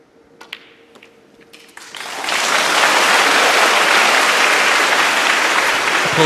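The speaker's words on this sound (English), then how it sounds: "Applause for frame ball." A snooker audience at the Wuhan Open 2024 final breaks into applause for frame ball. A few isolated claps come first, then full, steady clapping that swells and holds.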